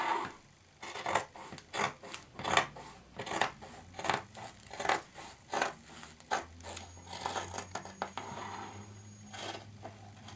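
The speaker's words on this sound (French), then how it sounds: "je coupe à simple et je coupe bien sur mes traits" Scissors snip through skirt fabric laid out on a table, a steady series of close, crisp cutting strokes in an uneven rhythm, with no voices.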